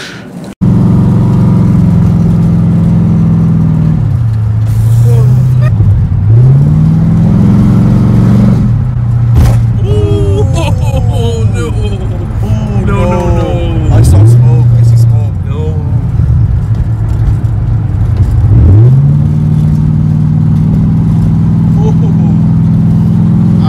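A Chevrolet Chevelle fires up and revs hard during a burnout session, with repeated loud throttle blips whose pitch swoops up and falls back several times over a steady idle, while people talk over it.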